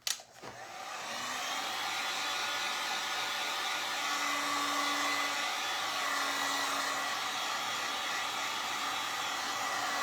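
A hair dryer blows on freshly painted wood of a handmade Christmas dog box, switching on with a click and then whirring in a steady, close, continuous hum.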